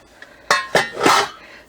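Dog bowls in a caravan clink and clatter as they are handled, giving three or four sharp, close metallic knocks in quick succession with a faint tap just before.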